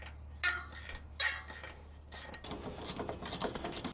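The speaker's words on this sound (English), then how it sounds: "And in the back, I've got a 9/16 socket wrench." A 9/16 socket wrench clicks as it ratchets on a bolt of a boat trailer bunk. Two sharp bursts of ratcheting come first, followed by quieter rustling and scraping of the tool close by.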